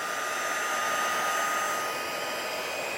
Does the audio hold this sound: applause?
no